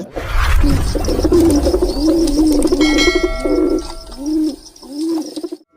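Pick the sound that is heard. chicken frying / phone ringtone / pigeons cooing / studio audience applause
pigeons cooing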